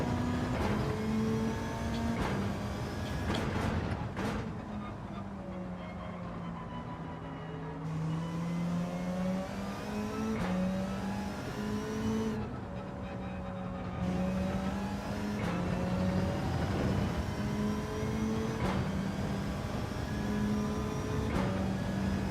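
An AMG Mercedes GR.3 race car in Gran Turismo 7 revs and shifts through gears, its engine note climbing and dropping repeatedly in a steady, loud drone with sharp gear-change breaks, and no talk.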